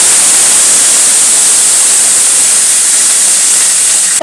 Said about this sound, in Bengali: বন্ধুরা এটা কিন্তু গরম হয়ে গেছে, এর মধ্যে আমি একটু জল ঢেলে দিলাম।